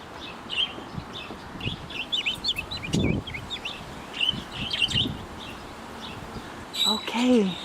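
A lost pet budgie chirps outdoors in short, bright tweets scattered across several seconds, with a longer warbling call near the end, amid rustling and a person speaking softly.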